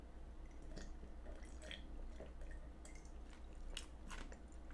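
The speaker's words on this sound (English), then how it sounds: "Let me just go ahead and take a sip of water." Someone takes a sip of water from a new mug, with soft close-up slurps, wet mouth clicks and a quiet swallow over a low steady hum, no talking.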